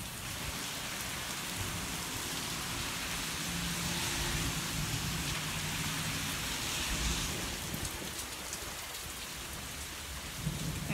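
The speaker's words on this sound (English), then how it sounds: "It's raining, it's pouring." Heavy rain pours down in a dense, steady hiss, with low rolls of thunder rumbling underneath throughout.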